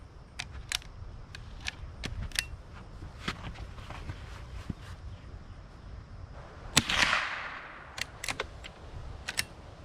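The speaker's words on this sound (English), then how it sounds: "I got 5 rounds loaded, so I'm going to do 5 shots." Several sharp, separate cracks come from a Henry Golden Boy .22 lever-action rifle at an outdoor range, with one louder and more drawn-out report near the end. Softer rustling and footstep-like noises fill the gaps.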